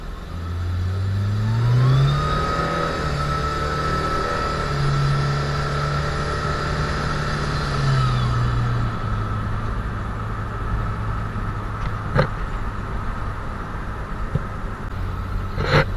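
A turbocharged Chevrolet Chevette engine is revved during a test hit from drive, climbing and falling in pitch through several surges before settling to a steady drone, close and loud.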